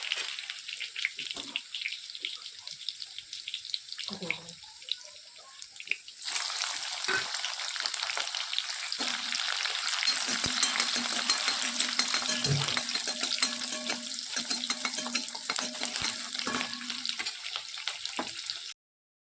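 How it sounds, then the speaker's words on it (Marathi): Garlic and green chillies crackle and sizzle loudly in hot oil in a pan, a dense spitting hiss that swells after a quieter start and carries on steadily. "तेल तापल्याच्यानंतर त्यामध्ये लसूण आणि हिरवी मिरची टाकलेली आहे."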